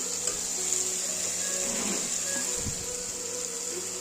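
Soft, steady sizzling of masala spices frying in oil in a pan for dal, with a few faint stirring scrapes and a low background hum.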